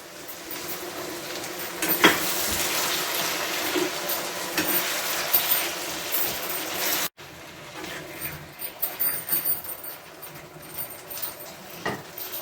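Sausage masala with tomatoes, capsicum and mushrooms fries in a pan, a steady close sizzle with occasional stirring scrapes, briefly cut off midway and then resuming.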